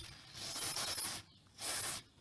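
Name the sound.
spraying white lithium grease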